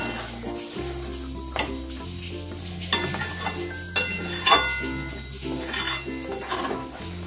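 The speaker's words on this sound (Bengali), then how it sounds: "ভালো করে এগুলো মিশিয়ে নেবো, ঘি আর গরম মশলা" A spatula stirs prawn kaliya curry with ghee and garam masala in a pan after the gas is switched off. Repeated scraping strokes and light clinks of metal on the pot sound over soft background music.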